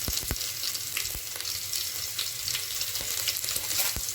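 Cumin seeds and grated, crushed ginger hit overheated oil in a pan, making a continuous bright sizzle peppered with sharp pops and crackles, close and fairly loud, with no talking.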